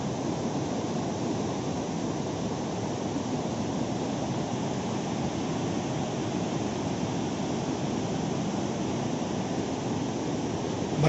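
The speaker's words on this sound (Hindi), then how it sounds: "ये झरना। ये आवाज़ कितना ज़ोर से आ रहा है।" Steady, loud broadband roar of a waterfall beside the Seti River in Nepal, low in water after the monsoon in October, filling the whole stretch without a break and with no voices over it.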